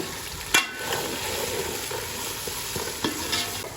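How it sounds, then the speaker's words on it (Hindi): Red chilies fry in hot oil in a pan for tinda gosht, giving a continuous close sizzle with a couple of sharp spoon scrapes as they are stirred, and no voices. "ये जो मिर्चें डाली थी वो अच्छी तरह से भून चुकी हैं।"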